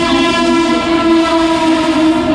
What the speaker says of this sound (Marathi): प्लॅटफॉर्म क्रमांक 2 वर आलेली लोकल 7:43 मुंबई छत्रपती शिवाजी महाराज टर्मिनसला जाणारी धीमी लोकल आहे।